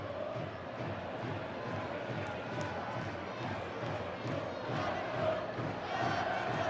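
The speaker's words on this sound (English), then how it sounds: "Leigh supporters in this big crowd chanting Adam Cook's name, and why not?" Leigh rugby league supporters chant in a big crowd at Leigh Sports Village during a lopsided match against Bradford Bulls, a rhythmic massed chant rising and falling, heard from a distance with commentary talk over it.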